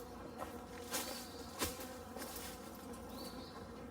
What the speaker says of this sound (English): I'm going to be really making some bees angry.